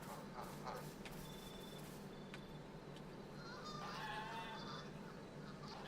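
Geese honk in the video game Pax Dei, faint and somewhat distant, a cluster of nasal calls rising in the latter half over a low steady background hum.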